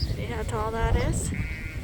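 Sheep on a farm give a close, wavering bleat in tall grass, followed by a shorter call. A low rumble of wind runs underneath.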